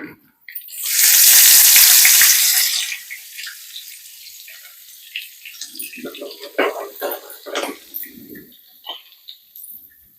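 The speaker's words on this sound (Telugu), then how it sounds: "కరివేపాకు బాగా వేగనియాలి" Dried red chilies, garlic and curry leaves frying in hot oil for a Telugu gongura pickle, a loud burst of sizzling spatter up front that settles into softer crackling pops and a voice speaking.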